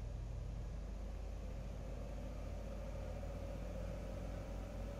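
A Cessna 182 piston engine running up in the A2A flight simulator, a steady droning hum with a constant rumble and no change in pitch.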